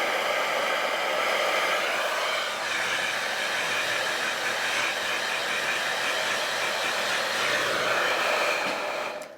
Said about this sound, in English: Now let's compare it to a regular blow dryer that I've been using also recently.